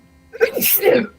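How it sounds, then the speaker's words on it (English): A single sharp sneeze bursts out close by, with a short intake of breath before the explosive release, lasting about a second. "Bless you."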